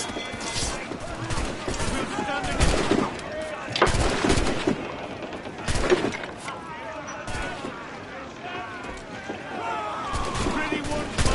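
Ship cannon fire from a naval battle against a Spanish schooner in Assassin's Creed Black Flag, repeated loud booming volleys amid battle noise, crashing and shouting voices throughout.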